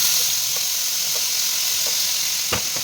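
Chili peppers fry in a pan with onion, tomato and capsicum about to go in, giving a steady bright sizzle throughout with a few soft stirring clicks and one sharper scrape near the end, no voices.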